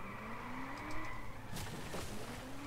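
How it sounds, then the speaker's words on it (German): Car crash while racing in the Just Cause 2 video game, with engine drone and tire noise, then a sudden sharp impact burst partway through followed by a further rumble. "Also das war jetzt mal ein krasser Aufprall."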